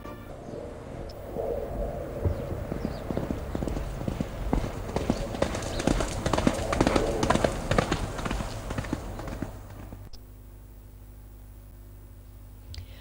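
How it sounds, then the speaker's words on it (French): A racehorse canters during a training session, its hoofbeats drumming in a steady, fast rhythm that swells as it passes close by, then cuts off to a quiet hum. "Ici, un canter d'entraînement."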